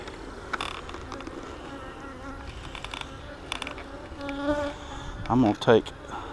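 Bees buzz continuously close by as hive frames are handled during a hive inspection, their humming swelling and fading, with a few louder bursts of buzzing near the end.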